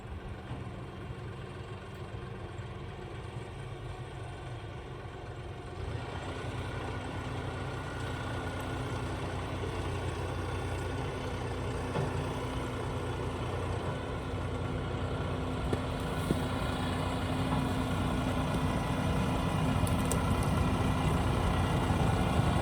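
A John Deere tractor engine idles outdoors as a low, steady, fairly faint rumble that holds without change throughout.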